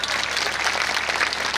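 An audience applauds steadily at a Gujarati community gathering, a dense, even wash of many hands clapping at once, with no voices rising above it.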